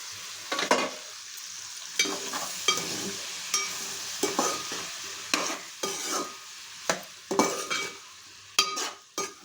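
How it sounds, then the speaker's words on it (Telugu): Okra pieces and tomato cook in a pan, heard as a soft sizzle under a series of sharp spatula scrapes and stirs at an uneven rhythm, fairly close, with no talking. "బెండకాయ ముక్కలు మగ్గినాయి ఫ్రెండ్స్. టమాటా వేసాను, అవి కూడా బాగా మగ్గాలి."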